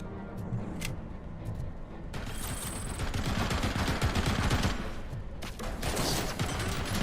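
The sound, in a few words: shotgun fire in RoboCop: Rogue City video game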